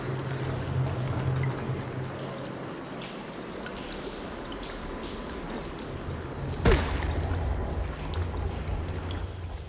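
Water flowing and rushing through pipes in the video game Horizon Forbidden West, a steady gurgling stream with a low rumble, a brief sharp clank near the end, no voices.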